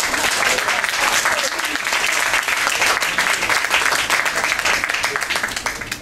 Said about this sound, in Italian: merita un applauso